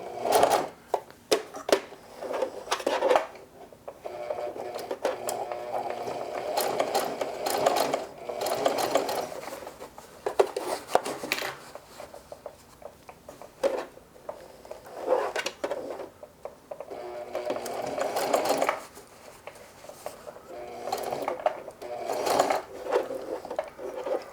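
A sewing machine stitches a denim jeans hem in short bursts of rapid clattering, stopping and starting with mechanical clicks between runs, close and moderately loud.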